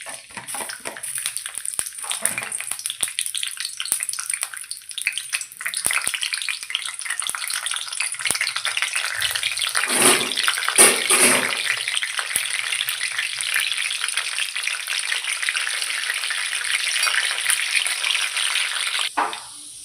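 Chopped garlic, cumin, a little mustard seed and curry leaves sizzle in hot oil, a steady broadband frying hiss with stirring scrapes and a louder spatter midway, close and continuous with no talk.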